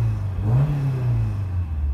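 A Honda S2000 (AP1) with an aftermarket exhaust manifold and Mugen muffler is revved once, its engine note rising sharply then easing back to a steady idle, loud and close.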